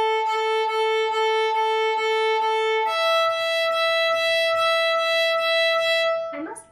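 A violin plays a Twinkle Twinkle Little Star variation in rapid, short sixteenth notes with little bow, repeating each pitch in quick even pulses before moving to a lower note, close and alone.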